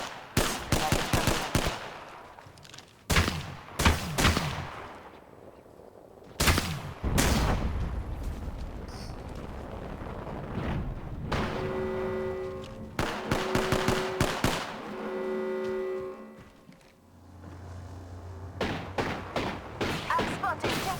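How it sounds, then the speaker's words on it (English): Gunfire in the battle royale video game Apex Legends, rapid bursts of automatic fire and single heavy shots with booming impacts, loud and dense, broken by short pauses and game effect tones, with brief in-game voice callouts. "I'm spotted, taking fire."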